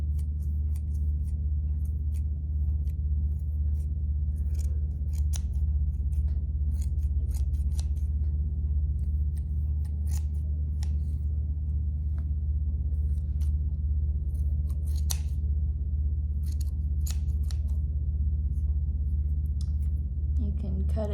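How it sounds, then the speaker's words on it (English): Scissors snip and trim the tail of a small yarn craft bird, giving a series of light, crisp clicks and cuts spread evenly over a steady low background hum. "I happen to have some scissors right here, and I can just kind of trim"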